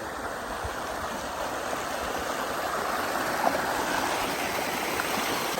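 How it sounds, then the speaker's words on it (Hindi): Rainwater from heavy rain flows into a street drain with a steady, loud rushing and gurgling that continues without break and has no talk over it. "इस तरफ से भी पानी आ रहा है और सीधा नाले में जा रहा है"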